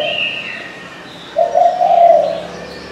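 A spotted dove from Phú Yên, Vietnam, kept as a strong-voiced decoy bird, gives one clear, close cooing phrase after a quiet stretch.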